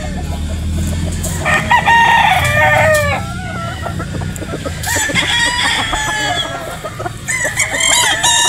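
Gamecock roosters crow loudly and repeatedly, close by, with clucking and other fowl calls mixed in against a steady background.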